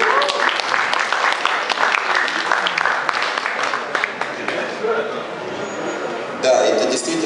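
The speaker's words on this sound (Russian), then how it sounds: "давайте приветствовать аплодисментами эту книгу" A crowd applauds at a book presentation about Tyson, with dense, sustained clapping that swells near the end and voices mixed in.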